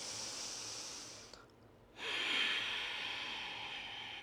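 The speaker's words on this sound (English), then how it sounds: "Now let's try it with our ocean breath. In through the nose and out." Forceful exhale through sealed lips during yoga ocean breathing, a breathy rush of air starting after a brief pause, close and steady, then slowly trailing off.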